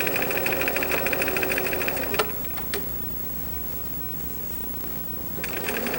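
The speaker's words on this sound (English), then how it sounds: "I'm stitching just on the very edge, giving it more of an edge stitch look" A home sewing machine edge-stitches a garment pocket with a 3 to 3.5 stitch length, running in a steady, fast continuous whir up close. It pauses briefly with a couple of clicks, then starts up again toward the end.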